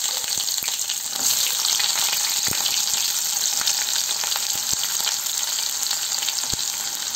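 Sliced onion, dried red chilies and fenugreek sautéing in hot oil for a vendakka kara kuzhambu, a loud, close, continuous sizzle broken by occasional sharp clicks of a stirring spoon against the pan.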